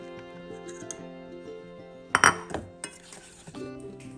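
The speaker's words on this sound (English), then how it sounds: "You will mix in the rest of the powdered sugar." A spoon clinks and scrapes against a bowl while powdered sugar is mixed into an eggless cinnamon roll mixture. The light taps come steadily at first, then a louder cluster of sharp knocks and scrapes, with soft background hum.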